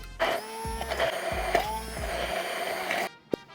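Cooked pumpkin pureed in an electric blender: a loud, steady motor whir for about three seconds that cuts off abruptly, followed by a single sharp click.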